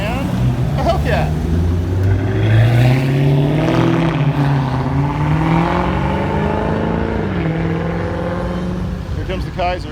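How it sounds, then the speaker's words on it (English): Dodge Viper, Challenger and Hellcat cars roll past one by one at a Main Street hot rod car show, with loud engine rumble rising and falling as they go by and people talking nearby. "Here come the bumblebees. All the bumblebees. Viper, Challenger, and a Hellcat."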